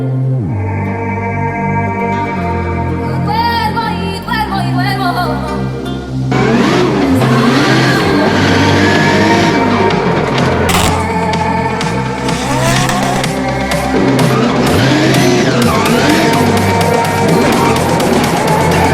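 Drag racing buggy drifting on sand, a loud revving engine with rising and falling pitch and tire noise, close and continuous throughout.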